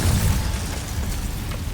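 Explosion from the Confringo blasting spell in Hogwarts Legacy: one low, rumbling burst that holds steady and decays over under two seconds, with no voices over it.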